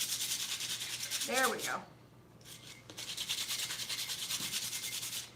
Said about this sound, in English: So maybe I'm gonna have to use sandpaper.